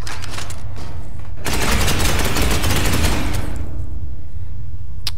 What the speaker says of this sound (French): Resuming fire.